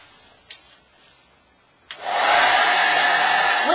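After a couple of soft clicks, a hair dryer switches on and blows with a loud, steady whoosh, heating air into a bag for a hot air balloon experiment.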